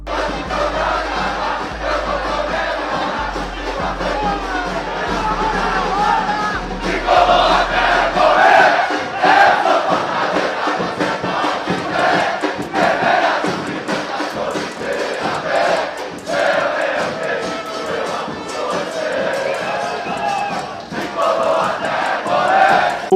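A Brazilian football supporters' group, a barra brava backing its tricolor club, chants songs together in a large, loud crowd, sustained rhythmic voices with drumming beneath.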